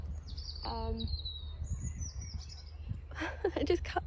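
Birds singing at an allotment beside a garden pond: a few clear whistled calls and a descending trill early on, then a busier burst of chirping near the end, fairly close over a low steady background hum.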